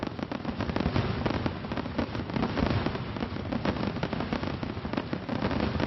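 Fireworks at an outdoor annual members' meeting celebration, a dense, continuous barrage of loud crackling bursts and pops going off close by without pause.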